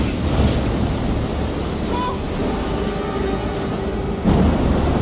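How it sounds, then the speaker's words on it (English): Ocean waves crashing onto a ship in the horror game Man of Medan, a constant roaring rush of surf and wind with a heavier surge near the end, steady and enveloping. "There's water coming on the ship now."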